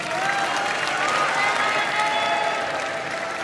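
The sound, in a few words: audience applause for all the candidate pairs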